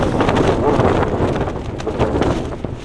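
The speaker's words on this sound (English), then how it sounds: "The wind's still not died down." Gale force wind roars and buffets a tent at a campsite in the Peak District, a loud, continuous gusting rush that swells and eases, with no speech.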